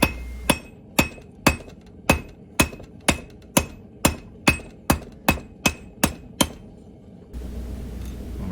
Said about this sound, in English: Putting that little piece around the horn of the anvil and just tapping it over.